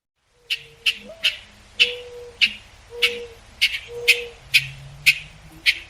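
A bird repeats a sharp, bright display call about ten times in a steady rhythm, each note clear and close, while a mourning dove's low soft cooing sounds faintly beneath.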